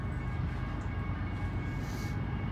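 BNSF 7619 freight train rolls westbound through downtown Flagstaff, a steady, fairly distant rumble of rail cars and engines without voices.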